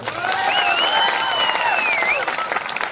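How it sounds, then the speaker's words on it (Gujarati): Audience applause at an AAP political rally speech by Dediapada MLA Chaitar Vasava, a dense steady clapping wash throughout with crowd noise and some voices mixed in. "એમના માટે પણ જોરદાર તાળીઓ પાડો."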